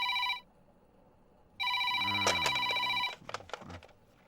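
A telephone rings after a call is dialled: a short ring burst, a pause, then a longer ring, with brief voice sounds overlapping near the end.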